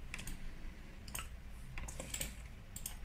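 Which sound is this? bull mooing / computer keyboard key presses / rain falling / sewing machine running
computer keyboard key presses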